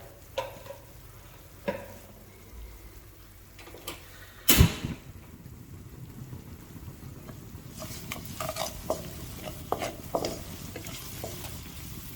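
Spices being stirred in a karahi pan: a spoon scrapes and clatters against the metal in uneven strokes over a low sizzle, with one sharp loud knock midway, no talking.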